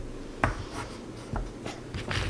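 A toddler colors on paper, a few scattered scratchy strokes of a crayon or marker close by, quiet and irregular against a soft room background.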